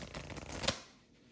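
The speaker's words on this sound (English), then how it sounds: "Right, so I got a deck of cards, which we'll take. Give them a shuffle." A deck of playing cards being shuffled by hand, a short quiet riffle with a crisp snap of the cards near the end, close and alone.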